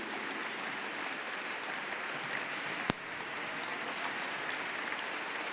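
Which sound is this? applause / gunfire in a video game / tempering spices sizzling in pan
applause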